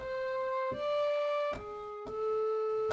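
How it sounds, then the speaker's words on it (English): A sampled Nay flute from the Discover Series Middle Eastern pack plays a slow melody of four sustained, breathy notes. Each note is held steadily with soft attacks, and it sounds alone and clearly. "So the sound that I've chosen is this Nay from the Discover Series Middle Eastern pack"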